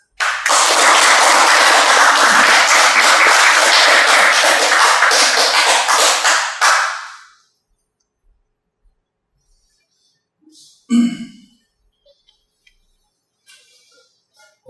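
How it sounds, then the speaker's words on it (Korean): An audience at a Monday lecture gives a loud, full round of applause to welcome the speaker, which stops abruptly after several seconds and leaves near silence with a few faint taps and knocks. "큰 박수로 청해서 강의 들어보도록 하겠습니다."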